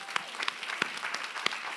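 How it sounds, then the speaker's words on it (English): An audience at a real estate talk claps in a brief round of applause, scattered sharp claps over a steady patter, moderately close with a faint voice underneath. "Give her a big round of applause."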